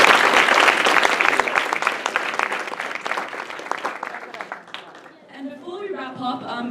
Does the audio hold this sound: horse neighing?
no